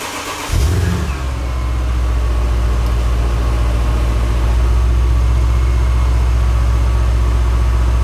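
A cheap used Mercedes S-class engine starts up and settles into a steady, deep running drone up close, loud and continuous with no talking.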